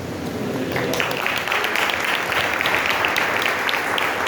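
Sustained applause from a church congregation during an Urdu sermon, a dense steady clatter of many hands clapping at fairly even loudness throughout, with no speech over it.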